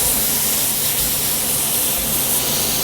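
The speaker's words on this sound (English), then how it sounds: "Once you hear that sizzle, you know they are." Steady, loud sizzling hiss of hanger steak searing on a very hot cooking block, continuous and close, with no voices.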